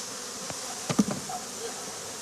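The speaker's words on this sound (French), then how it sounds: "Quand les abeilles essaiment, elles se gorgent de miel." A honey bee swarm buzzes in a soft, steady hum, with a few louder bees passing close by in brief droning bursts.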